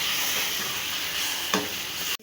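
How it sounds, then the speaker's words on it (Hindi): Semolina and pumpkin halwa is stirred in a hot pan: a continuous soft sizzle with a spoon scrape partway through and a brief clatter at the end. "सूजी को और हलवा कद्दू को मिक्स कर लेंगे।"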